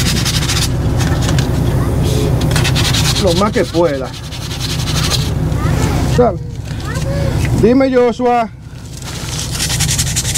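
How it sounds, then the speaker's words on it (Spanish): Sandpaper rubs on a metal truck air tank in steady abrasive scrapes on and on, loud and close, with someone talking over it and a brief whistle-like tone breaking through. "Ahora le voy a dar con la lijita aquí"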